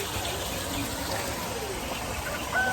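Natural stream water at Little Baguio, Sta. Maria, Laguna, flowing and gushing steadily close by as a continuous wash, with a faint whistle-like tone near the end.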